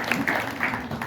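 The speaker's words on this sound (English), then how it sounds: "Guys and gals, give her a round of applause." Audience applause for a model at a rockabilly vintage fashion show, a short burst of scattered clapping with a few cheering voices over it.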